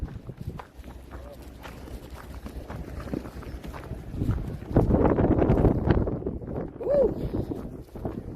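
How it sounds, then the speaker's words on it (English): Gusty outdoor wind buffets the microphone at a Convoy of Honor Veterans Day parade gathering, a steady rumbling roar that swells louder midway, with people talking over it throughout. "It's a lot windier here than it was right in Branson."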